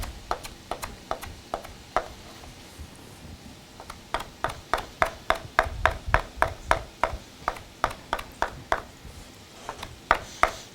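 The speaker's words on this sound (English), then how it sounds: "Take a little bit of cilantro. You want to cut this up pretty small." A knife chops cilantro into small pieces in close, crisp, evenly paced strokes that briefly pause and then resume. The taps stay steady and clear with no voices over them.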